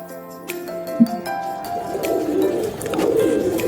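Madrasi pigeons cooing in a loft, low soft coos close by over a few seconds with faint chirps and background rustle.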